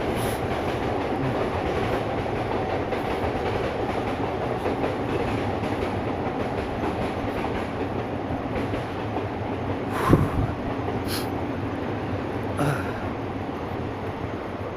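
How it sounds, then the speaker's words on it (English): A train rolls past in Tokyo in a long, steady rumble with clattering wheels, fairly distant and even in level, with a couple of brief metallic squeals near the end. "you can hear the train going past"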